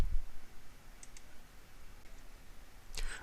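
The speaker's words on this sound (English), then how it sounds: "click the Send Now button" A couple of light mouse clicks on a computer, faint and quick, over low background hiss with a brighter click near the end.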